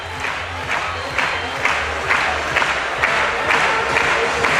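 Spectators at a Danish gymnastics team championship round in Svendborg rise and applaud, a loud sustained wash of clapping and crowd noise with rhythmic swells of clapping throughout.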